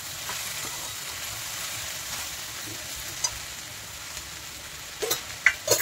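Onion with salt sautéing on a high gas flame, a continuous moderate sizzle with soft stirring, ending in a few louder spatula scrapes against the pan.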